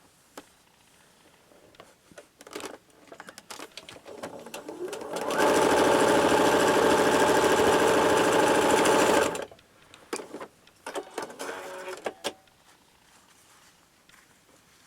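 A sewing machine stitches a quilt fabric piece along a folded line in one steady, loud run of about four seconds, framed by quieter handling noises and brief talk before and after.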